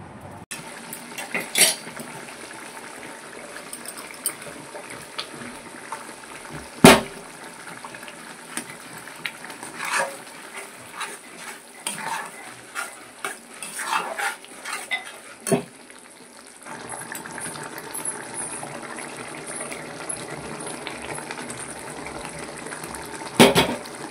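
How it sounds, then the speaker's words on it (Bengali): Mashed dried fish and ridge gourd stirred in a frying pan, with a utensil scraping and clacking against the metal in irregular knocks over a steady, soft sizzle, close up, with no talking. "পুরোটাই দিয়ে ভালো করে নাড়িয়ে নিতে হবে"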